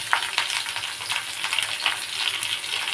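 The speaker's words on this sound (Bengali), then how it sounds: "সবজির সাথে পেঁয়াজটাও ভাজা ভাজা হয়ে যাবে" Vegetables and onion for an onion-stalk dish sizzle steadily in a hot pan, a close crackling fry with occasional stirring scrapes and no talking.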